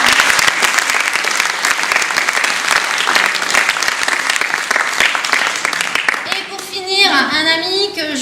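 An audience claps loudly and steadily for several seconds, dense close applause that thins out before a voice starts speaking near the end.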